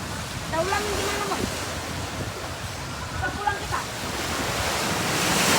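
Breeze at Lake Toba rushes steadily across the microphone with a broad wash like surf, while faint voices talk in the background.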